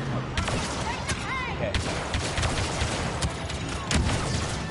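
Rapid blaster fire from Star Wars Battlefront 2, with dense overlapping bursts and sharp cracks going nonstop, loud and close, and whistling effects mixed in.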